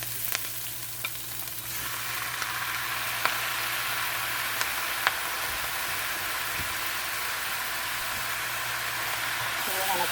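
Lobster and shrimp hit a hot pan and sizzle in a steady, close, dense hiss with a few faint clicks of stirring, while a voice talks now and then over the frying.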